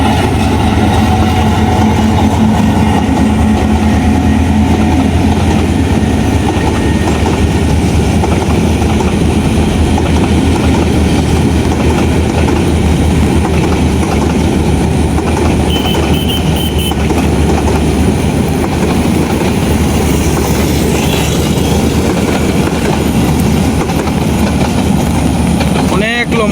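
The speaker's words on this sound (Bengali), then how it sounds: "এই বৃষ্টির মধ্যে ট্রেন চলতেছে" A long train rolls past close by in the rain on a village line, its steady rumble and wheel clatter running unbroken for nearly half a minute.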